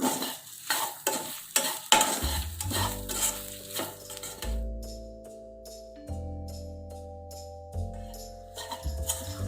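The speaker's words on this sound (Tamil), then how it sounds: "கருவேப்பிலை போட்டு நல்லா கிண்டிகிட்டே இருக்கணும், அடி பிடிக்காமல் பார்த்துக்கிடணும்" Garlic cloves and curry leaves stirred and fried in a pan for drumstick theeyal, a steady sizzle under repeated scraping strokes of a spoon against the pan, close and fairly loud, with a low tonal hum in the background.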